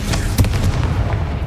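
A Confringo spell blast in Hogwarts Legacy, a single sharp booming burst with a low rumbling tail, fairly loud and close.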